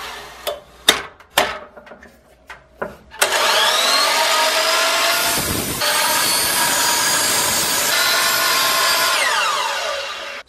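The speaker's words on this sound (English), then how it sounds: "I'm using a DeWalt miter saw." A DeWalt electric miter saw cutting 45-degree angles on wood boards for a planter: a few sharp knocks, then a loud close motor whine and blade bite through the wood lasting several seconds before spinning down.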